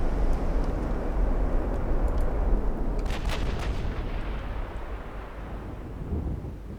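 Naval gunfire in the warship strategy game Ultimate Admiral Dreadnoughts, a deep continuous rumble with a burst of sharper reports in the middle, loud and steady with no speech.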